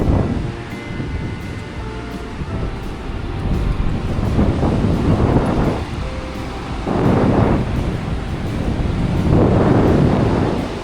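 Sea waves surge and wash onto the beach at Mousuni Island in repeated swells, with steady wind rumbling across the microphone and no voices.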